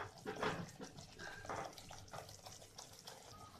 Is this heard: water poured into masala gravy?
yes